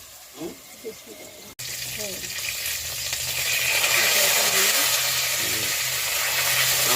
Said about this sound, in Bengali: ভাজা প্রায় হয়ে আসছে